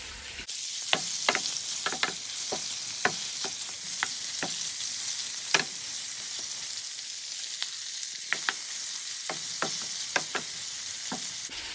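White prawns frying in a pan for Nigerian fried rice, a constant bright sizzle with sharp spoon taps and scrapes at irregular intervals, close and clear, no voices.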